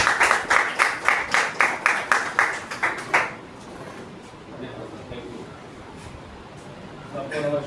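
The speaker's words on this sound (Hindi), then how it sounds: "तो आइए जोरदार तालियों से स्वागत करते हैं हमारे ग्रेट मेंटर" An audience at an Ayurvedic wellness company event claps to welcome a speaker on stage: about a dozen loud, rhythmic, unison claps for roughly three seconds, then the room drops to a quiet murmur.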